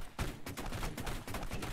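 Rapid gunfire in the video game Crayta, close-quarters combat mode, with dense repeated shots and bursts running continuously and loud throughout.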